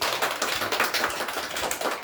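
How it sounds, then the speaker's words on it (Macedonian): A young audience applauds at a children's play, a brief patter of scattered handclaps from many small hands, fairly close and continuous. "Одлично, аплауз и за нив."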